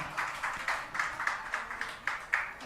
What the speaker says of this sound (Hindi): चलिए एक बार जोरदार ताली बजा दीजिए।